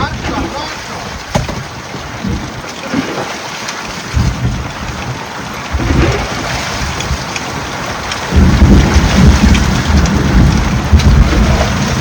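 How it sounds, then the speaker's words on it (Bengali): Heavy rain pours down hard beside the Matla river in a thunderstorm, a dense, loud hiss that swells and grows stronger toward the end, with deep rumbles beneath. "আর বৃষ্টি তো কোনো মানে থামার কোনো সিন নেই"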